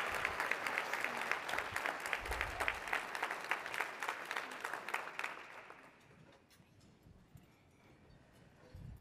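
Audience applause for award recipients at the Legal Aid Society of Cleveland's annual meeting, steady dense clapping for about six seconds, then fading to a sparse, quiet room.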